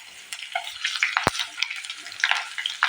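Panch phoron spices and bay leaves fry in hot oil with a close, crackling sizzle and brisk stirring, one sharp tap near the middle.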